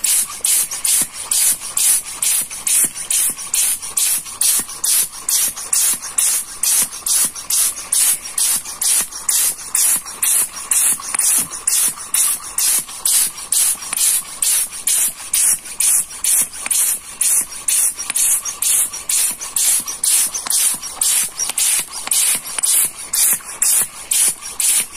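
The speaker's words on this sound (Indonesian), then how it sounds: "Kita semprot juga." Polish sprayed onto the outer face of a wooden piece during wood finishing, a close, steady hiss that pulses in quick, even bursts throughout with no talking.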